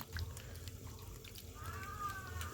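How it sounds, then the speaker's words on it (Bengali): Pumpkin flowers rinsed in water, a soft splashing and trickling with a faint tap-like flow, quiet and close with nobody speaking. "সমস্ত ফুলগুলো এইভাবে আমি ধুয়ে নেব"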